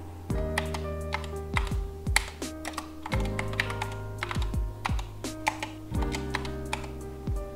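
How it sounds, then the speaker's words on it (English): Rapid mechanical keyboard typing on an Epomaker SK61, a steady run of close, crisp key clacks with bursts and brief pauses, alone over faint low background music. "I just type out the signature exactly how I would type it usually."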